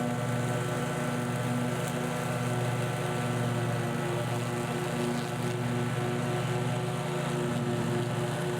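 A lawn mower runs on a steep hill with a steady, continuous engine drone and whine that holds a constant pitch throughout, loud and close without pause.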